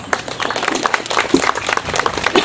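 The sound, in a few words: applause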